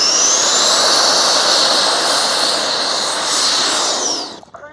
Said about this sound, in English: just show you the reverse thrust does work